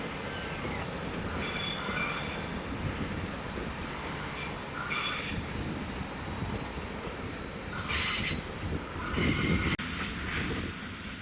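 A train rolls along the rails in Hungary, wheels squealing in several high-pitched bursts over a steady rumbling clatter, heard from moderately far away without any talking.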